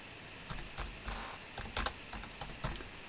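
Soft keystrokes on a computer keyboard tap in short, irregular clusters of a few presses each, quiet and close, with no talking.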